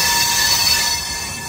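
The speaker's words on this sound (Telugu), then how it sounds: "ట్రైన్ స్లోగా మూవ్ అవుతుంది కదా" Train rolling slowly through Udhna Junction on a Hisar special express, steady rumble of wagons with high metallic wheel squeal running continuously, close and fairly loud, no talking.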